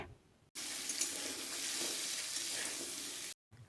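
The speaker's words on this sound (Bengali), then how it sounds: "এবারে খুব ভালো করে একবার নাড়াচাড়া করে মিশিয়ে নিতে হবে" Fried potatoes and peanuts being stirred in a pan give a steady, close sizzling hiss lasting a few seconds, cut off abruptly at both ends, with no talk.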